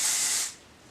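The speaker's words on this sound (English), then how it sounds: "I really like the spray nozzle on here because it's easy to control." A short, close hiss of dry shampoo sprayed from an aerosol can nozzle, lasting about half a second before cutting off into quiet.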